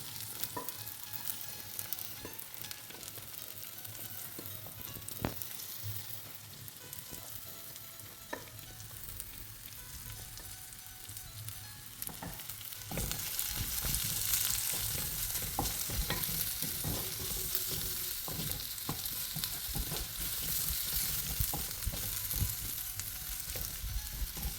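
Shallots frying in hot oil for a squid potato roast make a soft sizzle that grows louder and brighter halfway through, with repeated clicks of a spoon stirring the pan.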